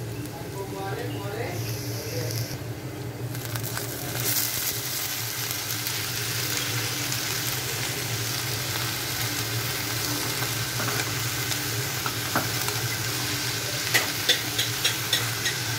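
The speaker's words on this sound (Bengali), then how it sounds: "এই শাক ভাজি করার জন্য আমি এখানে পেঁয়াজ, রসুন, কাঁচামরিচ দিয়ে একটু লাল লাল করে নেব।" Onion, garlic and green chili frying in a pan for a leafy greens stir-fry, a steady loud sizzle with occasional stirring scrapes, continuing evenly throughout.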